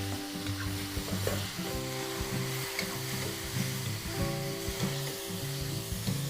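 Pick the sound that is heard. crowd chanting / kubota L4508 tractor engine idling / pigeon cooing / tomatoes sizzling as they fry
tomatoes sizzling as they fry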